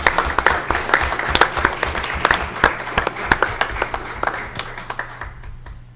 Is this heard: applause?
yes